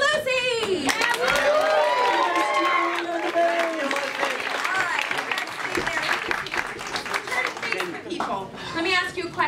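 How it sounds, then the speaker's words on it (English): An audience claps and cheers for Lucy, a lively crowd burst mixed with overlapping voices and a chuckle, clapping continuing under talk. "let's cheer for Lucy"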